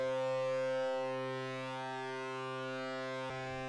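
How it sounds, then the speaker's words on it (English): A steady electronic sine-wave tone from the wobble effect in the osci-render oscilloscope music synthesizer, with a stack of sustained harmonics that drop slightly in level and briefly glitch near the end. "Wobble plays a sine wave at a similar frequency to the current audio,"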